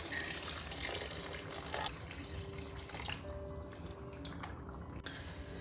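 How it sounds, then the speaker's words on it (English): Water is poured into a cooking pot of eddoe for a Bangladeshi hilsa curry, making a continuous splashing, rushing stream that thins toward the end, with a few faint clinks. "Here we can add our 1 liter of water."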